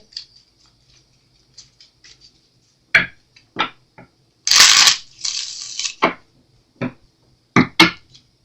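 Tarot cards shuffled by hand nearby, with scattered soft taps and flicks, then a brief riffling burst and a few more card snaps in a quiet room.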